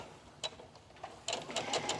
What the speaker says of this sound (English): I'm just going to lift the presser foot with the needle down, and that's going to keep my turn nice and even